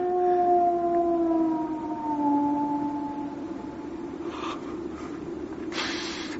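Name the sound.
eerie howl of the Hound of the Baskervilles on the moor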